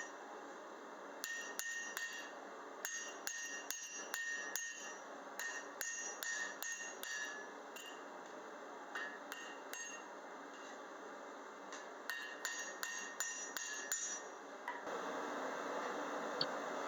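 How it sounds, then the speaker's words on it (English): Sharp metallic hammer strikes ring out in irregular bursts as a blacksmith forges a hinge, with pauses between runs of blows against a steady background hum. "I chose to pound it instead of sawing or grinding on it"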